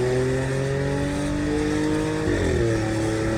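A remapped Volkswagen Polo 1.0 TSI engine drones loudly and steadily nearby, then briefly dips in pitch as it shifts before pulling again.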